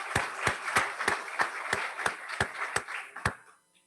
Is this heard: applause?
yes